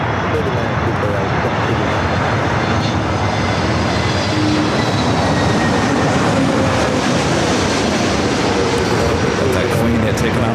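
A Boeing 747 jet takes off at LAX airport, a loud, steady, broadband engine roar filling the whole stretch without letup, close and dominant.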